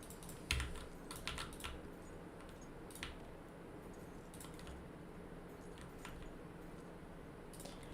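Keys clacking on a SteelSeries computer keyboard in quick irregular bursts, close and fairly quiet, with a low steady room hum underneath and no voices.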